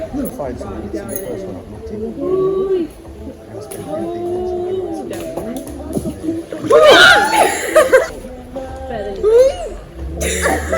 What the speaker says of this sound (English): What if I splash you?